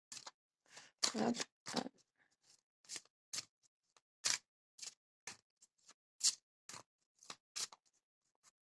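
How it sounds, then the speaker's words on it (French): Playing cards for a sentimental card reading being shuffled and cut: a run of sharp, papery bursts in irregular rhythm, close and fairly quiet, with a voice briefly murmuring a couple of short words in between. "je bats les cartes"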